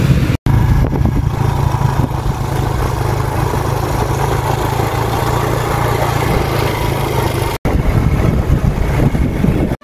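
A motorcycle engine runs steadily and loudly close by after being repaired, with a continuous low rumble as it rides off near Nilore, Islamabad, broken by two brief dropouts.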